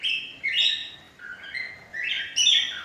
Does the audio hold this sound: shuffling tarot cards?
no